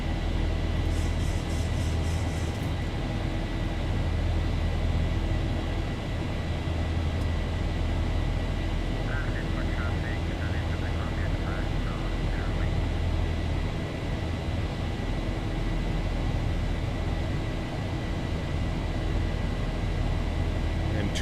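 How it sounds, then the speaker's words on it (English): Boeing 737-800 jet engines at climb power in the X-Plane 12 flight simulator, a steady, loud broadband roar and low rumble holding evenly throughout, with a brief faint chime near the start. "Climb power's coming in"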